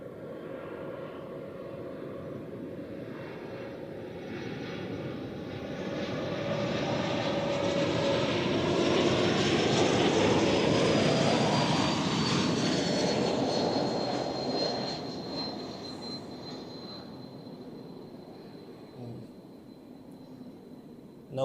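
A Helvetic Airways Embraer 195-E2 jet arriving at Zurich Airport from London City rises from a distant rumble to a loud close roar with a falling whine, then fades away again.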